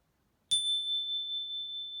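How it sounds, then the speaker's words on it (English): A single clear bell strike rings out, then a pure high tone sustains and slowly fades in an otherwise quiet room. "when you hear the sound of the bell, which Cassian will demonstrate,"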